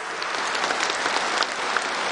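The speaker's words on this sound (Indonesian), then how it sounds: "buat tepuk tangan yang keras" An audience in a courtroom session applauds, a dense steady burst of clapping from many hands, close and even throughout.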